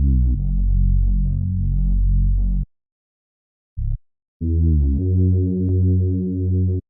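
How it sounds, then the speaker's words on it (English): Deep bass from a CN Tower drum kit in an R&B beat: loud sustained low tones stepping through a short melodic pattern, cutting off, a brief blip, then returning as a fuller, distorted bass line. "Next I used the bass from my CN Tower drum kit."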